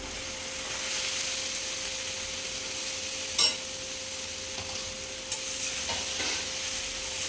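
Boiled, strained flat beans being stirred into green chili paste frying in a pan: a steady, even sizzle with soft scraping strokes of the spoon and a couple of sharp clinks against the pan, close and alone.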